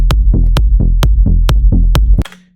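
Electronic kick drum and bass line in FL Studio with a Kickstart sidechain plugin ducking the bass, giving a loud, steady four-on-the-floor pulse with pumping bass notes between kicks, ending in a final hit and short tail.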